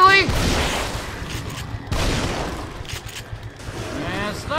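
Sniper rifle shots in the horror video game The Evil Within, two sharp, loud broadband cracks roughly two seconds apart, each followed by a short decay, with game ambience and a voice talking over them.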